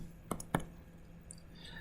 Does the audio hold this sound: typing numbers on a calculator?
yes